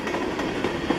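A train runs along a railroad near a depot, giving a brief, steady rumble of moderate loudness with no voices.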